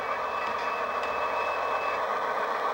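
An Athearn flat can motor drives a model locomotive, giving a steady, even electric whine and hum that runs unbroken and fairly loud, with no talk over it.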